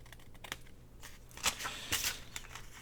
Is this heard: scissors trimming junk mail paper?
yes